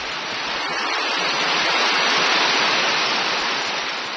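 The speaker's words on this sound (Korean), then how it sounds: "흐르는 것은 흩어져 아름다운 폭포를 만들고" A mountain waterfall roars in a steady, loud, unbroken rush of white noise that swells slightly in the middle.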